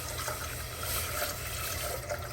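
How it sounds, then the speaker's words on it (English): Water pours steadily into a pot in a continuous, broadband splashing stream, four cups going in for a homemade elderberry syrup, with no talking over it. "So let's pour our 4 cups of water into our pot."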